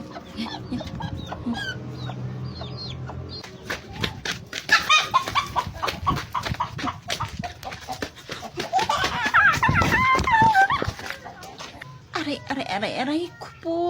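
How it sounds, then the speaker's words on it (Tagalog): Chickens cluck and squawk repeatedly in short bursts, close by, with children's voices talking over them. "Ayan yung manok."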